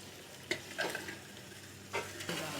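Peas and whole green chillies stirred into beef pulao cooking in a pot, with a soft steady sizzle and a few quick scraping stirs of the spoon, close by and fairly quiet, no talking.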